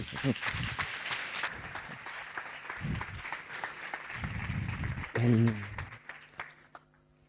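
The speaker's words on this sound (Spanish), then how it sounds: "Así que un aplauso para él." Applause fills a lecture hall as a mathematics lecturer is introduced, a dense clatter of hands running throughout while several voices speak over it. A brief loud thump comes near the end before the clapping fades.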